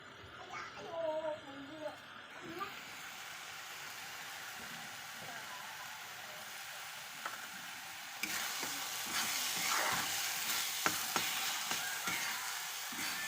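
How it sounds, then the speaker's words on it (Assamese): Masala with turmeric fries in a pan, a soft, steady sizzle that turns brighter and louder partway through, with occasional clinks of stirring close by. "এইখিনি ভালদৰে ফ্ৰাই হৈ গৈছেগৈ"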